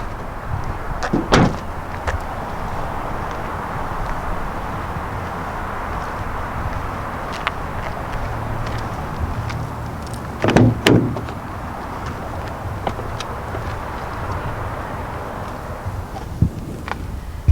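Rear seats of a 2019 Mazda 3 sedan folded down using levers, heard as two sharp mechanical clunks and thumps, one early and one midway, over a steady low cabin hum, with faint clicks between.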